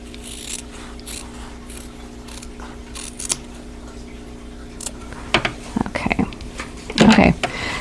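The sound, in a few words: scissors trimming fabric for an applique table runner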